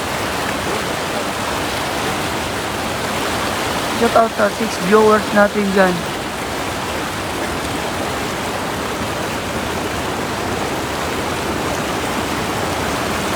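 A loud, constant roar of strongly rushing water fills a fishing spot, unbroken throughout, while someone speaks briefly over it partway through.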